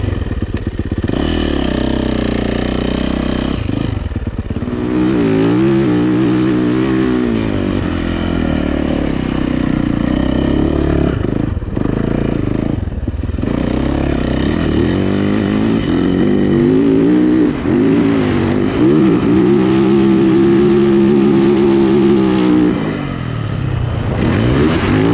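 A dirt bike engine revs hard on sand dunes, loud and close, surging and dropping through the gears in long continuous pulls.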